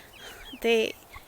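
A single short chirpy cluck from a five-week-old meat chick, close by, over quiet background.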